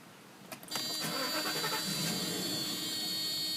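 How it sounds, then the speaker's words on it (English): A 1995 Mercedes-Benz S500 coupe (C140) with Lorinser styling cranks for a moment and starts, settling into a smooth, steady idle, heard close by without talking. "I'm going to go ahead and turn the car on."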